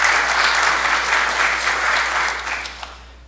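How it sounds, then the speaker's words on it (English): An audience at a manufacturing industry briefing gives a short, loud round of applause. The clapping is dense and even, then fades away with a few last claps. "Let's give him another round of applause and thanks."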